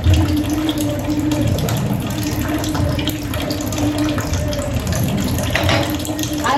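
Tap water pours steadily into a sink in a home kitchen, a continuous close splashing rush that runs throughout with faint voices in the background.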